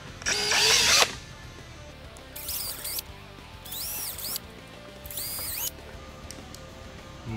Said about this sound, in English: we're going to go ahead and drill a small pilot hole to make mounting these just a little bit easier